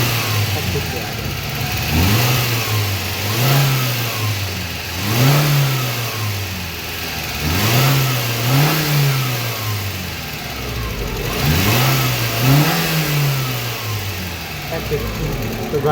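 A Suzuki Cultus car engine with an oxygen sensor wiring fault revs up as the accelerator is pressed, rising and falling about five times in a steady rhythm over a continuous idle, close and loud.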